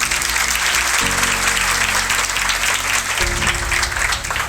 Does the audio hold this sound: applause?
yes